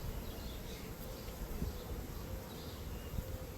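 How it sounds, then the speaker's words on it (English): Honey bees hum in a low, continuous drone while a Layens hive is opened and its frames inspected. The buzzing is steady and close, with no voices over it. "I have bees on my glasses"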